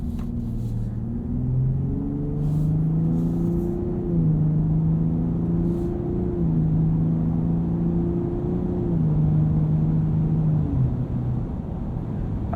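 A 2021 Ford F-150 Raptor with the 37 Performance Package drives along, its engine and exhaust giving a low, steady rumble with gentle rises and falls in pitch as it shifts and cruises, with no talking.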